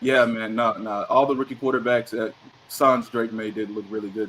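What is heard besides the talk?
No everyday noises stand out.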